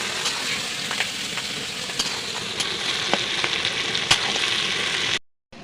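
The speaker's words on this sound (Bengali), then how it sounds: "যত সময় না আমাদের পেঁয়াজ লাল লাল হচ্ছে, তত সময় আমাদের একটু পেঁয়াজটাকে কষতে থাকবো" Onions, tomato and garlic sizzle steadily in hot oil in a pan, a dense close frying hiss with occasional sharp pops and crackles, continuing alone for about five seconds before cutting off.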